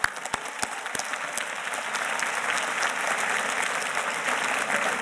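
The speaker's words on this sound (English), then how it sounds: "you and your entire team deserve a warm round of applause today" A commencement ceremony audience at a community college breaks into steady, broad applause. The clapping swells from a few sharp early claps into a dense, sustained wash of hands heard from within the crowd.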